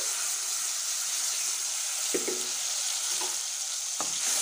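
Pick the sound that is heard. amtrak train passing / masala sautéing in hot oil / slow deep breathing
masala sautéing in hot oil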